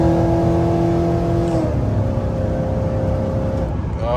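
A cammed Chevrolet Silverado or GMC Sierra pickup with a six-speed manual swap, heard from inside the cab on a freeway. The engine revs hard with a droning exhaust note, then drops as the driver shifts, and keeps pulling loud and close.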